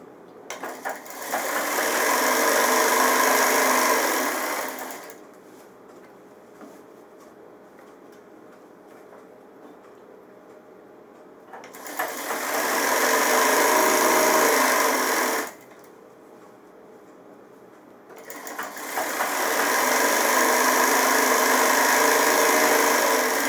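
Sewing machine stitching pajama fabric in a tailoring setting, whirring at steady high speed in three long runs separated by quiet pauses, with no talk.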